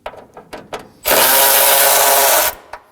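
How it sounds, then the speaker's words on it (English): A power tool runs steadily for about a second and a half as it backs out a 10mm bolt above the battery on a 2014-2020 Acura MDX, with faint clicks and handling noises before and after. "Now we're gonna be removing the other 10mm bolt that's right above the battery"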